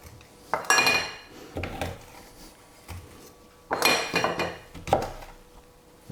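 Corn on the cob being cut into four pieces while making an exotic pot-au-feu, with two clusters of knife, board and dish clatter, close and fairly loud, separated by a quieter pause.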